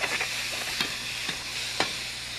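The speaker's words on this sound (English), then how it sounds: "let it start to fry." Salted meat sizzling in a hot frying pan on nearly full heat, a steady crackling hiss with occasional sharper pops and scrapes as it is stirred.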